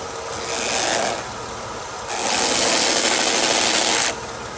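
A 1992 Mercedes-Benz W124 engine runs with a new fan clutch engaging, a loud rushing fan roar surging twice over the steady engine hum and then dropping back.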